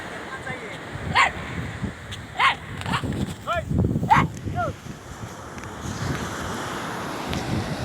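Sea waves at Dubalagadi beach wash in as a broad, continuous rush under strong wind buffeting the microphone, while voices speak and call out in short bursts over the surf.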